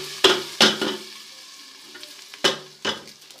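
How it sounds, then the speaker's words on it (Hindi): Hot spiced tempering poured over cooked dal sprinkled with ground garam masala, giving several short bursts of sizzle with clinks of the pan or spoon between them, close and distinct. "इसके ऊपर मैं ये तड़का डालूँगी"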